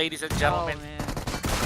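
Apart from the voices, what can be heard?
gunfire in the video game PUBG Mobile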